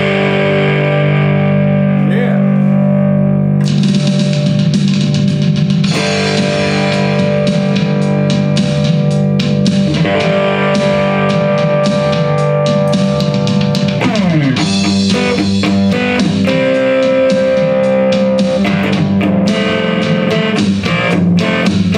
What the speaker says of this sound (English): This time I'm going to play this black Java camo box with a P90 in the neck position